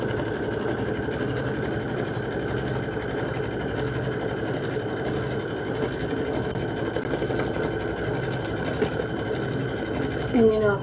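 A Kimberbell embroidery machine quilting a Jelly Tote insert runs with a steady, continuous mechanical whir and rapid needle rhythm throughout, fairly close, with a brief louder clatter near the end.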